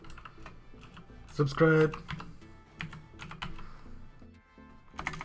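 Quick clicking keystrokes on a computer keyboard come in short bursts, close and fairly quiet, while someone talks over them.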